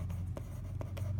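A few quick, soft strokes of writing on a page mark down a less-than sign during a math place-value lesson, faint scratches over a low steady hum.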